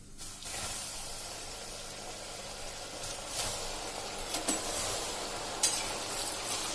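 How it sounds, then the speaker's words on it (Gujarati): Potato French fries sizzle and hiss steadily in hot oil over a full flame, with occasional stirring clinks and scrapes rising above the constant bubbling. "હવે એને આપણે આ રીતે તેલમાં નાખતા જાશું."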